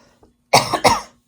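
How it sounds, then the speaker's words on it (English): Two sharp, close coughs in quick succession, preceded by a faint breath, in otherwise quiet surroundings. "Maybe I'll actually get rid of this cough."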